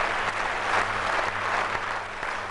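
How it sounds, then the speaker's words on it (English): An audience bursts into sustained applause for a singer, a dense, steady wash of clapping that stays loud and even throughout. "Time and time again, people around the world burst into applause."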